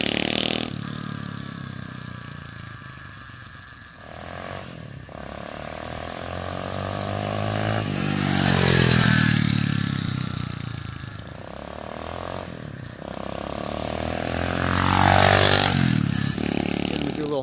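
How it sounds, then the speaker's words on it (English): An SSR 125cc semi-automatic pit bike makes a high-speed pass, its engine note swelling and fading twice as it approaches and recedes, loud and close at the peaks. "I'm gonna do a little high-speed pass. This is the semi-auto. You can hear how it sounds."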